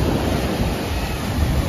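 Ocean surf washes continuously on a beach in Goa, a steady, full roar of waves mixed with wind buffeting the microphone.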